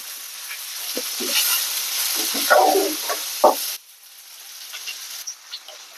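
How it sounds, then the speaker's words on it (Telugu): Onions and curry leaves fry in hot oil with asafoetida, a steady close sizzle with a few utensil scrapes and clinks, the hiss dropping noticeably partway through. "యాడ్ చేసుకొని ఫ్రై చేసుకోవాలండి. ఇలా ఫ్రై చేసుకోవాలి."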